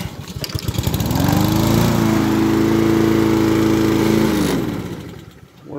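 A lawn mower engine, just cleaned of gunk, runs close and loud for a few seconds, its steady buzzing drone rising in and then cutting off.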